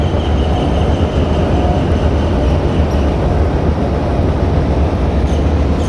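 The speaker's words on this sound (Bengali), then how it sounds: "আর এই দেখো ট্রেন যাচ্ছে এখন।" Train rumbling across a railway bridge near a fishing spot, a loud, continuous, close roar of wheels on rails with faint clacking, no voices.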